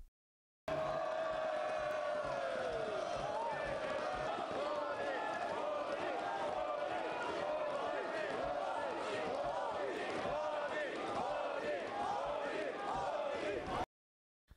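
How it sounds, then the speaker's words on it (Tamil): Members of India's parliament cheering and applauding in the chamber, a dense, steady roar of voices and clapping sustained for over ten seconds, then cutting off abruptly. "இதனை பாஜக எம்பிக்கள் வரவேற்று ஆரவாரம் செய்தனர்"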